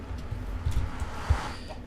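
Chickens in the video game Minecraft give a few soft, scattered clucks over a low background hum, faint and unaccompanied by talk.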